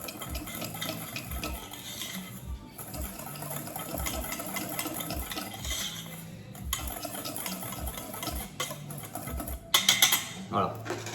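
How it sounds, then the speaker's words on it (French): Almond powder, flour and sugar being mixed in a bowl, with soft continuous scraping and rhythmic low knocks of a utensil against the bowl, ending in a few louder clatters. "Je mélange l'ensemble."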